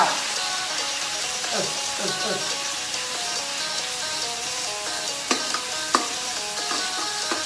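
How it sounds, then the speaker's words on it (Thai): Minced pork being stir-fried in a pan, a loud continuous sizzle broken by the scrape and clack of the spatula, with a few sharp knocks against the pan and background music. "มาเดี๋ยวเราเริ่มผัดหมูกัน ผัดหมูให้สุกก่อน"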